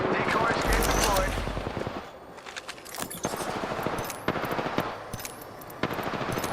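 Gunfire in the Apex Legends video game rattles in rapid automatic bursts and sharp single shots at close range, loud and repeated throughout.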